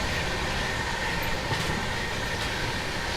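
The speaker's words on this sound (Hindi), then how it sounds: "ये गई आपकी नंदन कानन एक्सप्रेस।" The Nandan Kanan Express rushes past on an Indian railway line, heard from aboard another train as a loud, steady roar of wheels and carriages with faint clatter, continuous and with no voices over it.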